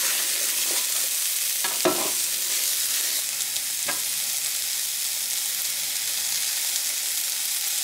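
Butter sizzling on a hot Blackstone E Series griddle turned down to 385 degrees, a constant close hiss of frying with a few faint scraping clicks and no speech.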